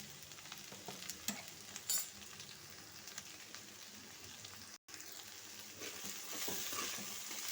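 Broad bean curry with chili powder is stirred in a pan, with soft scraping and clinking strokes over a continuous faint sizzle, close and fairly quiet.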